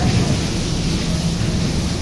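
Heavy rain pouring down in a steady, loud broadband hiss, with a low rumble of thunder underneath.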